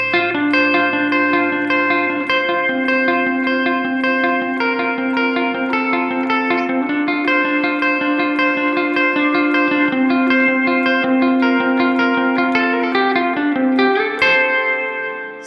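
Electric guitar played through a Donner Yellow Fall 2 hall reverb set to high level and long decay, a loud sustained wash of notes with shifting pitches that blur together and ring out to a fading tail at the end.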